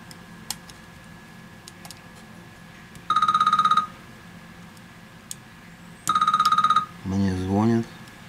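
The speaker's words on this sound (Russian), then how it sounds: "Мне звонят." A phone rings twice in short electronic bursts, each lasting under a second and spaced a few seconds apart, during a repair of a Samsung Galaxy S9 Plus that would not charge. A brief melodic tone follows.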